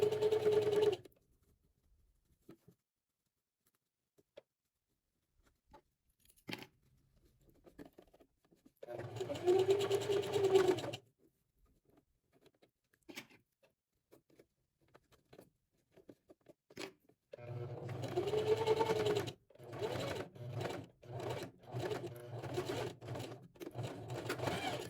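Sewing machine stitching the seam of a women's V-neck dress shirt, running in three bursts of about two seconds each, then a longer stretch of short stop-start runs near the end, loud and close with quiet gaps between.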